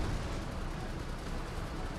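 Machine gun and cannon fire in Last Train Home, a dense continuous roar of rapid shots and heavy booms, loud and steady with no talking.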